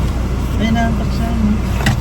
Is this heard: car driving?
yes